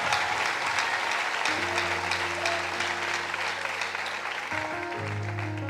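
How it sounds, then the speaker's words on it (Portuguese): Applause from a worship congregation, a steady wash of clapping under sustained keyboard or organ chords that shift partway through, moderately distant and even. "Pode aplaudir ao Senhor."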